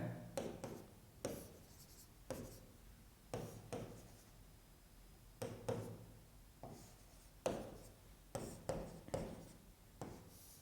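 Marker or chalk drawing a diagram on a board, with repeated short bursts of scratchy strokes separated by brief pauses, close and clear, with no talking.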